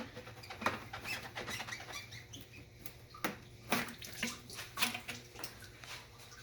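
Leftover fluid drips and trickles from a disconnected supercharger hose on a 2019 Mustang GT during a garage build, a series of small irregular splashes and taps, close and fairly quiet.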